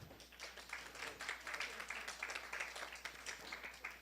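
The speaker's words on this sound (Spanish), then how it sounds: "al quien pido fuertes palmas" A conference audience gives a burst of steady applause, many hands clapping at once, heard faint and distant in a large room.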